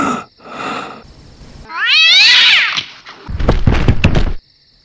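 A cat lets out a loud, drawn-out meow, close by, with a few thumps before it and a heavier clatter of knocks after.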